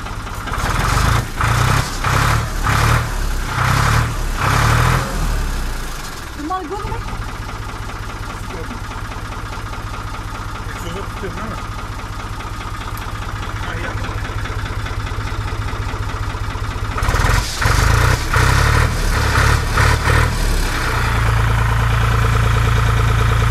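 A Ford 3000 tractor diesel engine with a tuned advance injection pump idles steadily and loudly up close, its rhythmic knocking pulse dropping to a smoother hum midway before returning, with voices talking over it.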